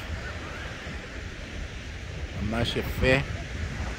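Sea waves wash onto a beach below a cliff near Apollonia Park, a constant windy rush of surf, with a person speaking briefly over it.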